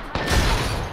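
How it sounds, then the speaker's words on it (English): Grenade explosion in the video game Apex Legends: a sudden loud burst that stays as a dense, booming roar for the rest of the moment, with no voices over it. "Oh, grenade."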